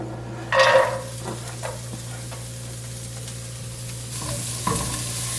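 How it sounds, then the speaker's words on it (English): Onions, carrots and garlic fry in a pan over medium-high heat, with a loud sizzle as they hit the oil that settles into a steady crackle, broken by a few stirring scrapes. "Now I'm going to cook up the onions, carrots, and garlic."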